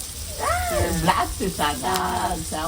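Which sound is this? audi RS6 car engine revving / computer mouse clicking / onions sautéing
onions sautéing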